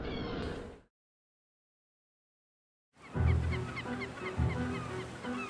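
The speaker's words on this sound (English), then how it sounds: "Kelp gulls, the coastline's answer to the vulture." Kelp gulls give a series of nasal, mewing calls close by on the coast, broken by a silent gap, with repeated cries rising over a low background.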